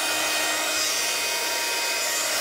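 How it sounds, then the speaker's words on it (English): A handheld heat tool blasts hot air to set freshly stamped ink on a card, a steady, loud, even whoosh that holds for the whole stretch with no talk over it. "I'll give it a quick blast with my heat tool."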